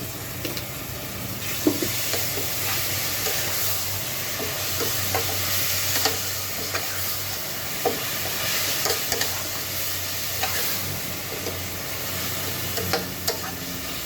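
Garlic paste frying with a fish head in a pan, a steady loud sizzle with occasional spatters and stirring clinks, no talk, continuous throughout.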